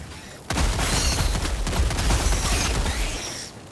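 Dense burst of gunfire in the co-op shooter Helldivers 2, a loud continuous volley of rapid shots starting abruptly and rattling on for about three seconds before cutting off.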